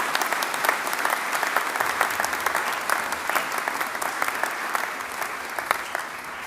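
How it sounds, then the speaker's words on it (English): An audience at a Charles Darwin University TAFE Faculty of Arts and Society graduation ceremony gives the graduates sustained applause, many individual claps crackling over a full, even roar that fades slightly toward the end. "please give our graduates a huge round of applause"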